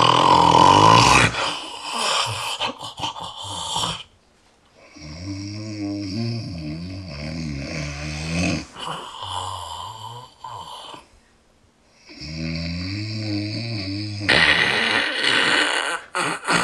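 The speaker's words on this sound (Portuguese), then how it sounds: "É, só espero que ele não ronque." Loud, close snoring with long rumbling inhalations repeated in several cycles, separated by brief quiet gaps, no talking.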